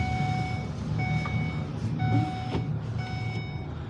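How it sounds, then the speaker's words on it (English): A vehicle's reversing alarm beeps steadily in a regular rhythm over a low engine rumble, fairly close. "Sorry for the beeping."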